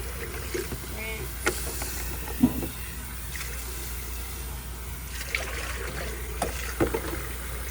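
Water splashes and trickles as basins are rinsed during patient care, with faint intermittent sloshes and a few sharp knocks of the basins against a sink, fairly quiet and close.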